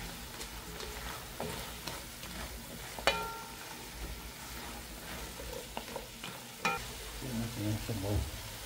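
Food sizzles and fries steadily in a pan while a utensil stirs and scrapes, with occasional sharp clicks of metal against the pan, as taro is sautéed for a Spanish mackerel sinigang.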